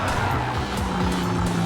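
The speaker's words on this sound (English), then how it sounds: "I didn't have the grip and the tire temperature just correct and launch myself right off the course" A race car in Gran Turismo 7 losing grip with overheated tires and sliding off the course, a loud steady engine drone under sustained tire squeal and skidding, no speech.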